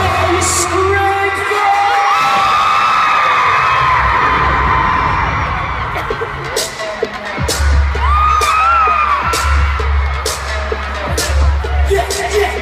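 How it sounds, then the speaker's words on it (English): A large crowd at a concert in Birmingham screams and cheers loudly, with whoops and shouts rising over a pounding bass beat. "I want to hear you scream"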